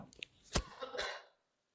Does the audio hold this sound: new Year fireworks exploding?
no